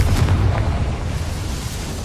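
A Confringo spell blast from Hogwarts Legacy, a booming explosive burst that rumbles loud and low at the start, then fades into a lingering roar with no voices over it.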